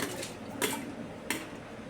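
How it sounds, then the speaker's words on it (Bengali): A pressure cooker holding washed red lentils is set onto a stove with two brief metallic clanks about half a second apart, heard up close over a quiet background. "এটা কুকারে আমি বসিয়ে দিচ্ছি"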